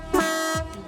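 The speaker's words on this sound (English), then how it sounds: "It's a train horn." A train horn fitted to a 1969 Cadillac at a car show gives one short, loud, harmonically rich blast lasting under a second, with a slight pitch dip partway through.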